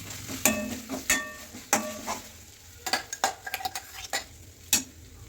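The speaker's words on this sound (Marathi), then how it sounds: "प्युरीला तेल सुटूसपर्यंत असं भाजून घ्यायचं व्यवस्थित।" Tomato puree frying in oil with ginger-garlic paste for shev bhaji while a spoon stirs and scrapes the pan, giving repeated sharp clinks over a soft sizzle, close and fairly loud, with no talking.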